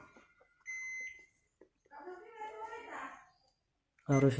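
While a broken electric mosquito racket is being repaired, a multimeter on continuity test gives a steady electronic beep lasting about half a second. Soft handling clicks surround it, and someone speaks briefly afterward.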